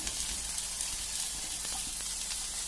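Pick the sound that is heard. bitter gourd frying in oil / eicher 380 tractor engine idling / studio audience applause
bitter gourd frying in oil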